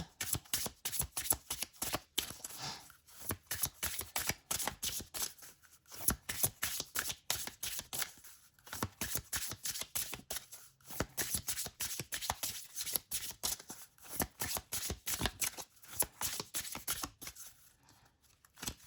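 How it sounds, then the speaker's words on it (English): A deck of oracle cards being shuffled close by, with rapid riffling flutters and slaps repeating in bursts and brief pauses for almost twenty seconds. "let's go ahead and pull from the Inner Child Oracle."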